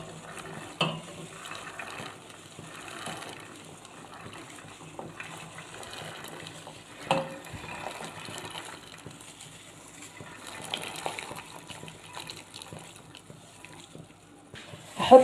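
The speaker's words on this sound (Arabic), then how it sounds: "وزي ما انتم شايفين معايا الميه بدات تغلي" Green peas are tipped into a pot of boiling water sweetened with a light sprinkle of sugar, giving a low, steady bubbling hiss with a few soft splashes and thumps. Faint voice traces come and go.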